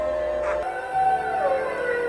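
Huskies howling in a ring through a long Alaskan night, long wavering tones rising and falling for about two seconds, sustained and fairly close, with no talking.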